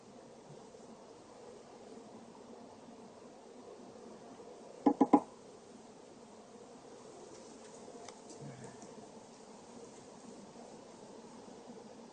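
Honeybees on a brood frame lifted from a hive, a faint continuous buzzing hum throughout, broken by a brief cluster of sharp knocks midway and a small soft bump later.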